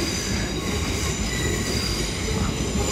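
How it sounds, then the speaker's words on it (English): A train rolls past close by, a loud steady rumble of wheels on rails with high squealing tones running throughout. "There goes the train."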